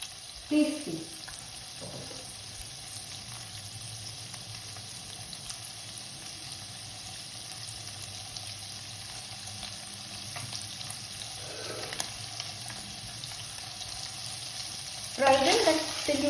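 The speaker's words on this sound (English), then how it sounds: "Fry them till you get a little color on them." Paneer cubes sizzle steadily in a pan, a soft continuous frying hiss with occasional louder stirs and clinks at the start and near the end.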